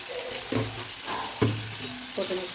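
Onions sautéing in a pan with curry leaves for a village-style dry fish kulambu, a continuous close sizzle with a few spoon scrapes and taps, plus faint tonal ringing through it.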